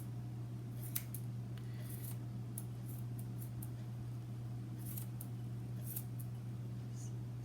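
Scissors snip fresh wheatgrass in a string of short, crisp, separate cuts over a steady low hum, fairly close and clear, with no talk.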